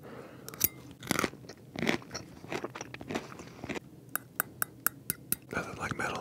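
Crunchy broccoli salad in a slightly sweet, savory sauce chewed close to the mic, with several sharp crunches and bites in bursts, plus a few quick metallic clicks of a utensil against teeth, softly whispered over.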